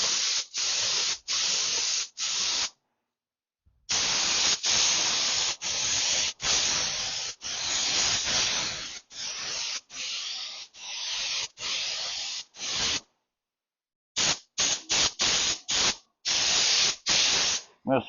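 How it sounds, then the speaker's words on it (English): A paint spray gun sprays clear coat mixed with accelerator onto a classic car under restoration. Loud, close, steady hissing blasts repeat in rhythmic on-off passes, with two longer pauses. "This gun will spray upside down"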